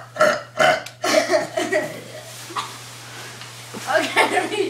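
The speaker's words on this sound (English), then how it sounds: "How about most repeated burps?" Several loud, croaky burps come close together at the start of a burping contest, followed by softer belches and low vocal sounds, with a steady electrical hum underneath.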